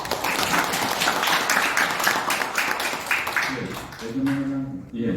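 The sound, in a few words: audience applause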